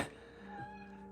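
A brief, faint meow from a cat nearby, tonal and drawn out over a quiet background.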